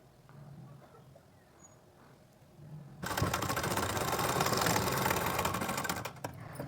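A sewing machine stitches the folded hem of a lined blouse, starting abruptly after a quiet pause and running as a fast, steady, close mechanical whir for several seconds before slowing at the end.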